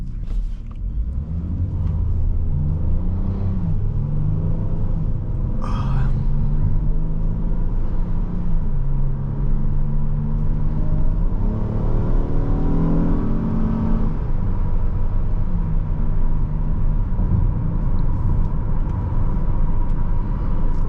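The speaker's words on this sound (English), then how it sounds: "I've really enjoyed driving this Odyssey." A 2020 Honda Odyssey Elite minivan on a test drive, its engine a steady close rumble and whir that rises and falls through gear changes, with no talking.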